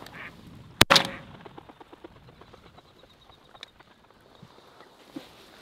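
A drake duck quacks during a duck hunt over a lentil field, a sharp gunshot-like crack near the start followed by scattered quacks and calls at a distance outdoors.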